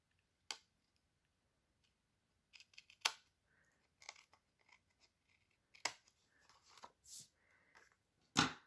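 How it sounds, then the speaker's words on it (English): Paper trimmed with scissors at a card-making table, several crisp separate snips and small rustles in quiet surroundings, close and fairly faint. "I'm going to do a little trimming here."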